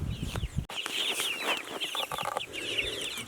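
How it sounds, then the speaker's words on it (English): Meat chickens cluck in a steady, busy chorus from a chicken tractor on open ground. The calls come near and fairly loud, overlapping with one another, and a brief sharp click breaks in early on. "This morning we moved the meat birds out,"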